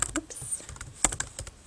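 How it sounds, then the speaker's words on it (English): Quick, irregular clicking of keys on a computer keyboard, close and clear, with no voices. "I'm going to type in Hunger Games"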